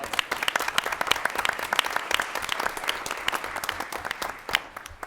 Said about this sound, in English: I'm sure board members want to give you a big round of applause.